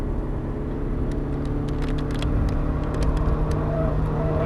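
A car runs flat out around a race track, its engine a loud, steady drone held at high revs throughout, heard from inside with faint ticks over it and no talk.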